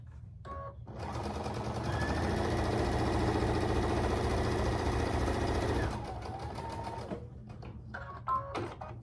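A sewing machine stitches 6.5 inch quilt squares onto a nine-patch block for an Irish Chain quilt, running in one steady close whir for several seconds before stopping, with light handling clicks around it.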